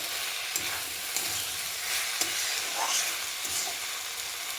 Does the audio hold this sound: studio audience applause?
no